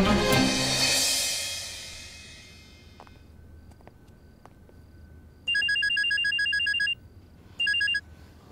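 After a fading noise, a telephone rings twice with an electronic trilling tone, a long burst then a short one, fairly clear against a quiet background.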